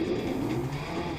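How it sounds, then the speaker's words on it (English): A race car spinning out in Gran Turismo 6, a sustained tire squeal over the engine hum as the car skids sideways, steady and fairly loud. "It's like it goes straight and then immediately spins out randomly."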